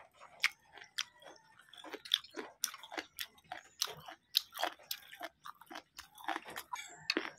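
Crisp, crunchy chewing of long beans close up, with repeated bites and munching in an uneven rhythm, no talking.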